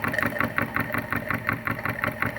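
A PM Research No. 3 model steam engine, fed by a Roundhouse boiler, chuffs along at a slow, steady pace, its regular rapid exhaust beats close and even with no voices.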